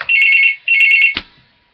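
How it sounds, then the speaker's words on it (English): A phone rings loudly in two electronic ringtone bursts close by, followed by a short thump. "that is the phone"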